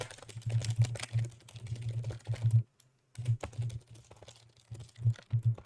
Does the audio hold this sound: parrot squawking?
no